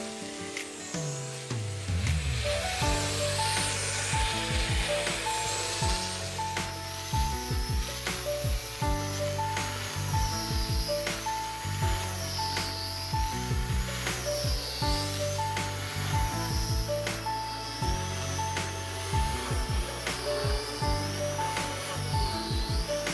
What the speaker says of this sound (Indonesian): Yang pertama kita amplas dulu pakai amplas nomor 80. Amplas secara merata dan halus.